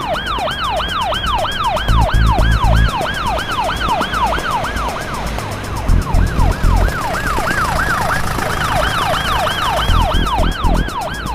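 A wailing emergency siren sweeps up and down in rapid, steady cycles, loud and close, with traffic rumble underneath.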